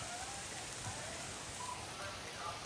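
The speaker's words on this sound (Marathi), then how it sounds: "चक्क पाऊसच यायला लागलाय" Heavy rain falling outdoors near a home, a dense, steady hiss of drops with no breaks, soft and constant throughout.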